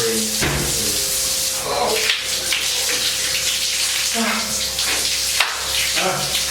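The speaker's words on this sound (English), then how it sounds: "I like a cold, invigorating shower." Running water of a cold shower hisses steadily and loudly, a continuous spray broken by brief shifts, with speech and musical tones layered over it.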